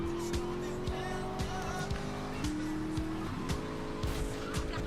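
A car driving in Grand Theft Auto Vice City, its engine droning steadily with a shifting pitch, plus a few short thumps and quick squeals, fairly quiet overall.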